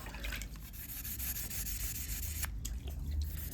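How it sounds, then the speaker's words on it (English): Wet sanding a 1955 Chevy dash trim piece with 3000-grit wet sandpaper and warm soapy water, a close, continuous rubbing and scrubbing with light wet rasps and no talking. "we're going to start rubbing this down"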